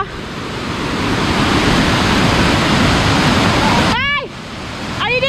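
Tad Pha Che waterfall in Laos roars as a steady, loud broadband rush of falling water; near the end a person's voice calls out over the noise.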